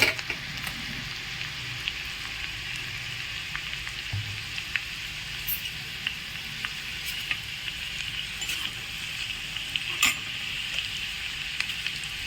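Curry leaves and sesame seeds sizzle in hot oil as a tempering for dhokla, a steady bright crackle with scattered sharper pops, close up and continuous, with no voices.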